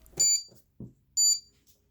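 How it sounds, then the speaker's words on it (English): A tape tag mini gives two short, high electronic beeps about a second apart, crisp and close, with a faint thump between them. "The tag will beep once if you just use the tag"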